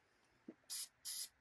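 Two short, close hisses of spray paint coating parts of a 150cc GY6 scooter engine, each burst lasting a fraction of a second, with a small clunk before the first.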